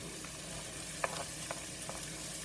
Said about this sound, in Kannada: ಈರುಳ್ಳಿ ಎಲ್ಲ ಸ್ವಲ್ಪ ಫ್ರೈ ಮಾಡಿಬಿಟ್ಟು ಇವಾಗ ಇದಕ್ಕೆ ಕ್ಯಾಪ್ಸಿಕನ್ ಹಾಕ್ಕೊಳತ್ತೀನಿ